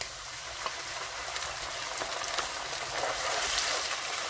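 Tomatoes hit hot oil and spices in a pan of chicken curry masala, giving a steady, bright crackle and sizzle at close range, with a few louder pops and no talking.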